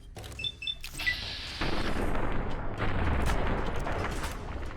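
A shotgun fires in the video game Fallout: New Vegas, giving a sharp blast followed by a sustained rumbling echo, with faint game tones just before it.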